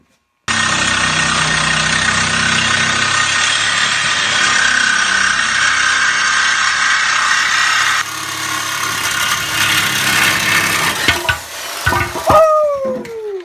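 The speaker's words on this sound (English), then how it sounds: "We're going to try a Sawzall first." A Sawzall reciprocating saw cuts a stuck car part on an S10 during an IFS removal, a loud steady buzzing drone for several seconds that eases off, then clanks and metallic rings near the end.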